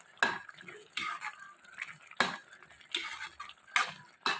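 Intermittent scraping and clinking of a spoon stirring tomato pickle with chili and turmeric powder in a pot, a series of short, close strokes at an uneven pace with quiet pauses.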